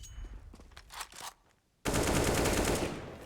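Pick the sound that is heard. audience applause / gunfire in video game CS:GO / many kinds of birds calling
gunfire in video game CS:GO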